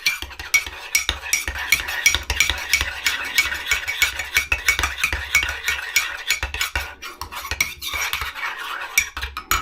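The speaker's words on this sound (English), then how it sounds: "Stir that up." A spoon clinks rapidly and continuously against the inside of a cup, stirring coffee with a little warm water, a busy close-up rattling rhythm with no voices.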